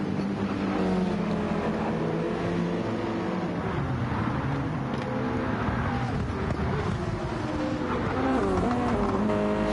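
Race cars roar continuously around the Brands Hatch circuit, with layered engine notes rising and falling as several cars pass, loud and steady throughout with no talk.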